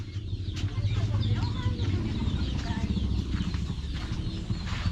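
Laying and brooding hens cluck and murmur in a coop, a steady, close chorus of low throaty clucks with occasional sharper calls, continuous over several seconds with faint background talk.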